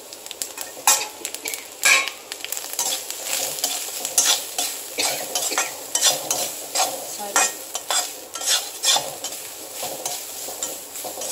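Grated coconut sautés in a pan for raw jackfruit kurma, with a soft steady sizzle under repeated scraping and stirring of a metal spoon against the pan, close by and without talk.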